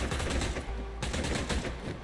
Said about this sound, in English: Somebody over there shooting.